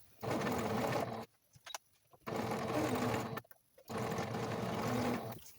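A sewing machine stitches a pocket onto a plus-size tank top, running in three steady bursts of rapid mechanical whirring separated by short quiet pauses with small handling clicks.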